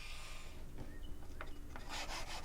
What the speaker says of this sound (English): I just sanded that same as the small one to remove the brim and trim it to the line of the mold